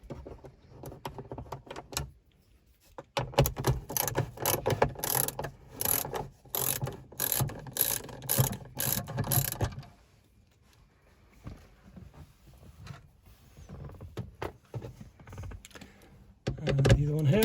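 Screws being undone on the front interior roof light of a MK7 VW Golf, heard as quick ratcheting clicks in two bursts with quiet gaps between, close and fairly soft.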